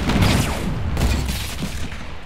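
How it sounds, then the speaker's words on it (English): Shotgun fire in a solo-versus-duos battle game, a loud close burst of blasts at the start, trailing off into a rumbling decay with no speech. "Why are you using your shotguns?"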